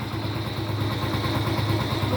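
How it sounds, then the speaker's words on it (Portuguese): A small Honda Pop 100 motorcycle engine idles smoothly and quietly after repair, a steady low continuous hum with no revving, heard close and alone. "O motorzinho ficou dormindo, cara. Dormindo. Bem silenciosinho, ó."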